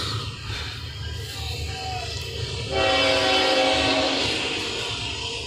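Train passing near a college baseball field, a loud rumbling pass with a sustained horn blast building midway, heard alone without talk.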